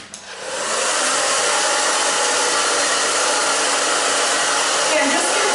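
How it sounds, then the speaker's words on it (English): Hair dryer blow drying a short A-line haircut, switching on and then running as a steady loud whoosh close by, with no talking. "now I'm going to blow dry."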